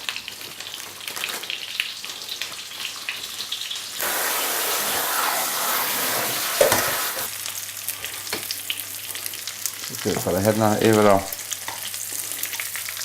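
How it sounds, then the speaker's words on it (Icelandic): Food frying in oil in a pan during a home cooking demonstration, a steady close sizzle that swells louder midway, with stirring and utensil clatter and a brief stretch of voice over the frying. "við erum að steikja hérna"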